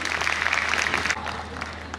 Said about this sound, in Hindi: Ek jordar taaliyon ke saath us bande ka swagat karo